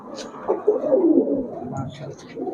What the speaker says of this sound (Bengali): কবুতর ডাক গুলো দেখছেন